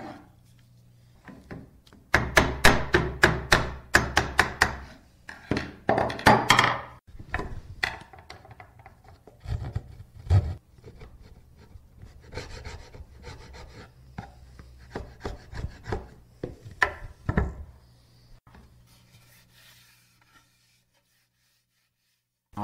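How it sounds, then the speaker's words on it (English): Sharp hand chisel shaving flakes from black walnut wood, a close series of dry scraping, rasping cuts in uneven bursts, busiest early and tapering off with quieter pauses, no talking. "he cuts away flakes of walnut, one shaving at a time, using a very sharp chisel"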